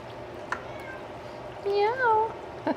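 A pet cat named Tippy gives a clear, close meow with a rising and falling pitch, after a fainter earlier mew, in a quiet kitchen.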